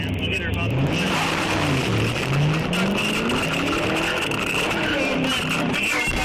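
A Camaro speeding away from police, its engine roaring and revving as it accelerates hard, the pitch climbing steadily, loud and continuous under a voice talking.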